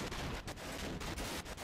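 Rapid bursts of gunfire from the remover gun in a cursed Halo CE mod, a dense rattling volley of shots fired in quick succession, loud and alone.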